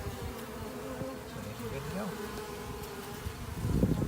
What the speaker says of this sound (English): shake them down in the corner here and get us a cup of bees